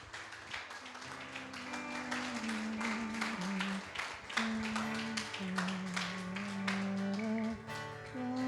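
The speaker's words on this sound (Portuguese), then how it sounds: "Pode aplaudir, igreja, Jesus aí, bem forte para cá" A church congregation claps during a worship service, the steady clapping sitting under loud music with a sustained melodic line, with rhythmic sharp claps running through the whole stretch.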